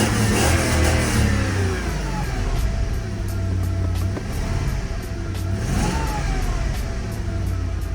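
A 1995 BMW E34 540i M-Sport V8 revs repeatedly from idle, loud and close, its engine note rising and falling in several swells with no one talking.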